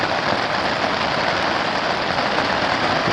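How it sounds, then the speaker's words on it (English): Steady, dense rain pours down at a Boundary Waters campsite, a continuous close hiss of drops on surfaces with no break and no voices. "It sure is raining."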